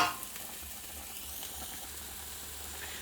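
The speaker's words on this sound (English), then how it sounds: "Just remember to keep stirring your pasta, make sure it doesn't stick." Pasta stirred in a pan for a syn-free tuna pasta bake gives a steady, low sizzle and soft scraping that runs evenly throughout, with no talking.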